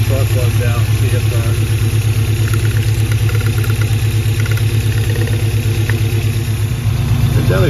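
A 1997 Toyota Tacoma's 3RZ four-cylinder engine idling rough with a suspect number 1 cylinder, a steady loud uneven chugging throb with a lumpy pulse running throughout, close up.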